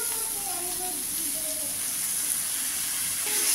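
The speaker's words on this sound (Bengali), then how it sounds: "এবার এর মধ্যে আমি দিয়ে দেবো বেটে রাখা মশলা," Ground spice paste going into a pan of frying vegetables and tomatoes gives a steady, close hiss and sizzle that holds for a few seconds, with faint tonal sounds above it.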